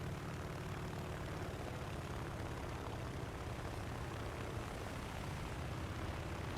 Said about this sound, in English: here are some clips from a couple of my games flying in the Wildcat